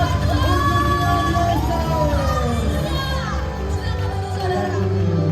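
A church congregation at an Easter service claps and cheers together as a dense, loud wash of crowd noise, with voices and music tones rising through it.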